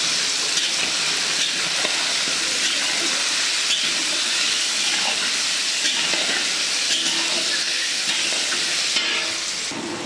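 Cut sweet pumpkin and potato pieces frying in hot oil, a loud, steady sizzle with crackling spatters and occasional stirring scrapes running unbroken throughout.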